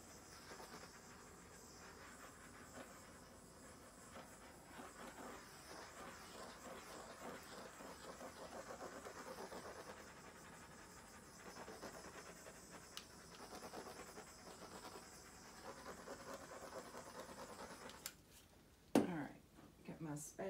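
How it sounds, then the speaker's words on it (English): A torch flame hisses steadily over freshly poured resin for about twenty seconds, a continuous broadband rush close by. A brief clatter and bump come near the end. "I'm gonna torch this because I'm just watching cells pop up"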